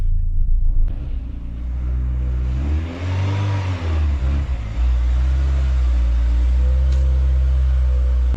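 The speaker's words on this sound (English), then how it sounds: "Here we have a Volvo 440 GTL 1800 multipoint from the year 89" A 1989 Volvo 440 GTL with a 1.8-litre multipoint injection engine idles with a deep, close rumble, then revs up and falls back once midway before settling into a steady idle again.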